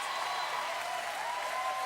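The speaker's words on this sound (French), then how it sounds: "Un tonnerre d'applaudissements" Steady applause from a television studio audience during a French variety show with Junior Eurovision guests, even and sustained throughout without pauses.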